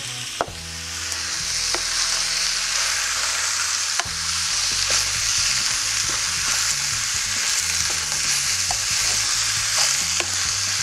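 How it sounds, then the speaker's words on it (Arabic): Meat cooking with almonds, onion and garlic sizzles steadily in a pan for a Middle Eastern dish of zucchini slices with rice and yogurt, with loud continuous frying broken by a few clinks and scrapes of stirring, no talking. "هلا هاللحمه عم تنطبخ مع اللوز البصل والثوم"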